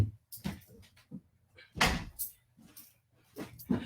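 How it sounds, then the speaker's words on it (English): Door swinging shut indoors, a few knocks and thuds of handling before a firmer closing bump near the middle, fairly close and moderately loud, with a dog faintly present in the room's background. "I'm going to close the door"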